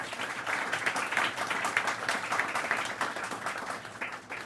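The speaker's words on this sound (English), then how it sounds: "give RAD a round of applause for making this happen" Members at a RAD gathering applauding, a steady even wash of many hands clapping at moderate distance with no voices on top, lasting throughout.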